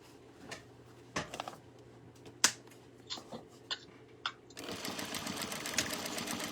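Sewing machine stitching a tote bag seam in a live class, starting with a few short clicks and taps, then running steadily in a continuous close buzz for the last couple of seconds.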